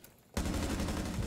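Gunfire in a first-person shooter video game starts abruptly after a short quiet moment and becomes a dense, loud burst of rapid shots.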